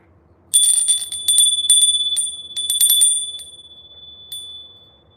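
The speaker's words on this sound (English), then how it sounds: "I'm gonna ring the bell one more time." Small bright bell, like a bicycle bell, rung in a rapid series of repeated dings for several seconds, clear and close, then tapering off to a final lone ring with no talking.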